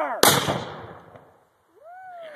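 A cannon fires at a historical reenactment with a single loud, sharp blast that rumbles and decays over about a second, followed by quiet and then a brief high voice.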